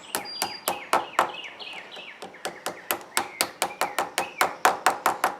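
A hammer gently taps a metal section of a mini bike part flat, a steady series of about two dozen sharp ringing strikes at a quick, even pace, close and fairly loud.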